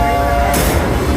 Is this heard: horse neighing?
no